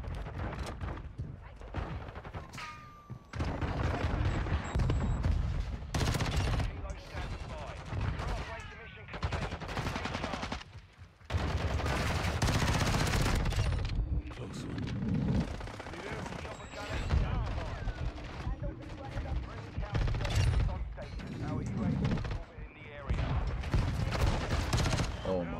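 Dense, loud bursts of gunfire from the Croene Squall in Call of Duty Modern Warfare II multiplayer, coming in rapid clusters with brief gaps throughout.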